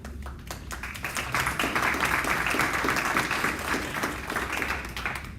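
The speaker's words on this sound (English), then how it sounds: "So I appreciate the applause" Audience at a board of education meeting applauding, a dense patter of many hands clapping steadily for several seconds at moderate distance, preceded by a few scattered claps.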